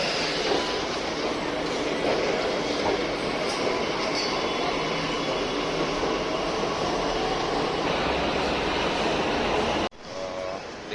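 Delhi metro train at a station rumbling and whooshing loudly with a continuous roar of wheels on rail, then cutting off abruptly near the end to a quieter platform ambience with faint tones.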